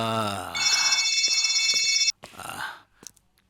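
A telephone rings with a steady electronic tone for about a second and a half, then cuts off abruptly, followed by a brief voice and scattered short sounds.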